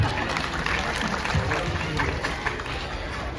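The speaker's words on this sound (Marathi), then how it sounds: "यांच्यासाठी जरा जोरदार टाळ्या वाजवा" Audience at a dance competition in Navi Mumbai applauding, a steady dense wash of clapping and crowd noise throughout, with scattered voices mixed in.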